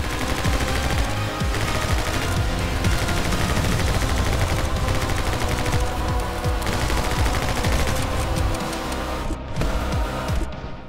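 Rapid gunfire from the side-scrolling shooter My Friend Pedro during a motorcycle chase fills the whole stretch, dense overlapping bursts over game music, loud and continuous with no talk.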